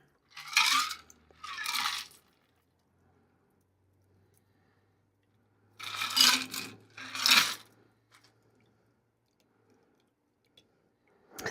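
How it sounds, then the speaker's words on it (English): St-Germain elderflower martini poured through a double strainer into cups, heard as four short, close splashing pours grouped in two pairs, with quiet pauses between and no talking. "Pour a little bit in each cup for me and the Reamster."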